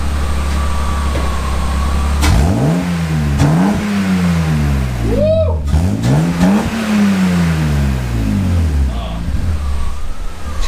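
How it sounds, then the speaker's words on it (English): A BMW E30 revving up several times, the engine note climbing and falling in repeated close, loud sweeps through the exhaust over a steady idle. "Let's get the first exhaust clip. Get some revs."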